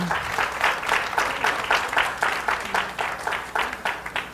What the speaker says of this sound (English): let's give another round of applause to Carolyn Gilman.